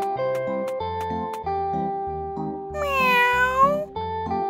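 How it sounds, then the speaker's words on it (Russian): A cat meows once in a rising, drawn-out call, set against bright, simple melodic music and chimes from a children's drawing program. "Полюбуйся, как твоя кошечка подтягивается и мяукает."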